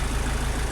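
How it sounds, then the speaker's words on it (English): Steady low rumble of the engine on a Land Rover Rapid Transit backhoe running with the PTO engaged, loud and close in a brief, even stretch. "Then when you lift the clutch, that's now spinning the PTO."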